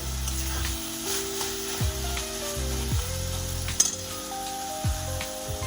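Chicken mince frying with spices in a pan, cooked for an egg devil made with duck eggs. A steady close sizzle runs throughout with occasional stirring scrapes, and no one speaks.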